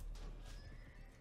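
A horse neighs once in the Mount and Blade Warband medieval battle game, a loud, brief whinny over a dense rumble of background noise.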